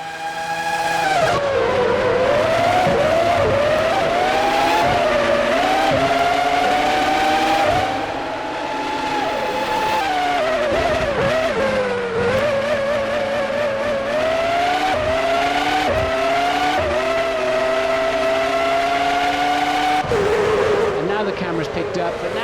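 2003 Formula One race cars at the Austrian Grand Prix in a racing video game, high-pitched engines screaming and shifting gears continuously as cars run close together, loud and steady, with a commentator talking over the engines.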